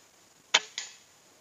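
A single muffled pop of an air rifle fitted with a Neo Gorilla suppressor, a sharp burst followed about a quarter second later by a softer thud of impact; otherwise quiet.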